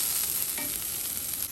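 Half an onion sautéing in mustard-seeded oil, a steady close sizzle with a brief stir in the middle, no voices.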